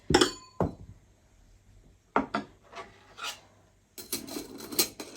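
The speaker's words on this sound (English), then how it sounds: "our cocktail shaker and shake" A cocktail shaker full of ice for a virgin tequila sunrise mocktail is shaken in rapid rattling, clinking bursts, loud and close, with short pauses between.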